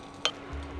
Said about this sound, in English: So I always stir it and mix it to make sure that every part of my fried rice is covered in oil and garlic and onions.